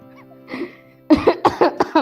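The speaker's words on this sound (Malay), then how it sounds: "Batuk pula kan?" A faint throat sound is followed by a quick series of four or five sharp coughs, close and fairly loud.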